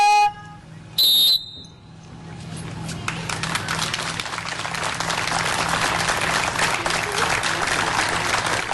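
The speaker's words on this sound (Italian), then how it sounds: "Un lungo applauso e tanti palloncini colorati lasciati salire in cielo" Long, steady applause from young swimmers gathered at their pool for a memorial, building after a brief high electronic tone and continuing as a dense wash of clapping with a faint low hum underneath.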